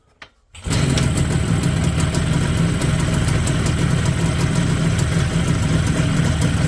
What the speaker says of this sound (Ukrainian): двигун Іж Юпітер 5 повністю після капітального ремонту та відновлення показує його роботу та звук